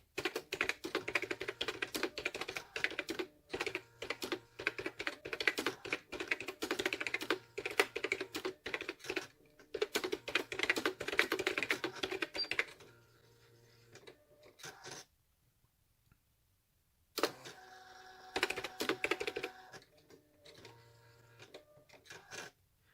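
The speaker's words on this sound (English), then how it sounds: "let's just do some typing" Rapid, steady keystrokes of a Brother EP5 thermal typewriter clatter for long stretches, broken by short pauses and a near-silent gap before the typing resumes.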